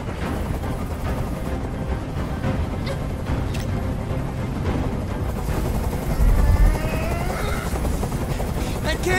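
Steady video game helicopter rotor thumping fills the scene at moderate loudness, with a low boom partway through and faint voices mixed beneath.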